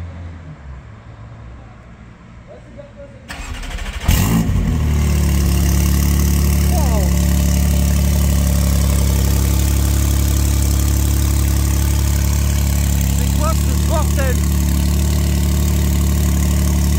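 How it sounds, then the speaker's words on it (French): Turbocharged car with a modified exhaust fires up with a sudden loud burst, then settles into a steady, deep, rumbling idle close by, with voices faintly in the background. "Un turbo avec les échappements modifiés qui va faire un petit start-up là."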